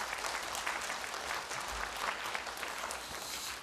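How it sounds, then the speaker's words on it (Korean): An audience at a National Assembly seminar applauds for lawmaker Kim Young-bae before his congratulatory speech, even continuous clapping at moderate distance with no voices over it. "큰 박수 부탁드리겠습니다."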